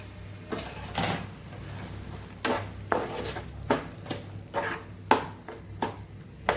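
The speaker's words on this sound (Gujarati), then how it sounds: "બધું સરસ મિક્સ કરીને આપણે સાતડી લઈશું" A spoon stirs garlic, chilli, onion, sugar and salt for tomato chutney in a pan over a low flame, making repeated close scraping clinks at a loose, steady rhythm over a low hum.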